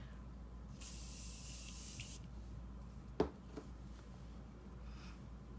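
A makeup setting spray mists onto a face in one faint, steady hiss of a little over a second, followed by a soft click from the bottle in a quiet room.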